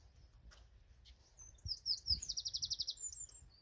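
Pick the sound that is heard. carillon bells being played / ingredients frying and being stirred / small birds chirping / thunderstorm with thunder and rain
small birds chirping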